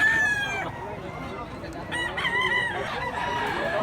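A stag gamecock crows twice in quick succession, loud and near, with clucking fowl and people talking in the background.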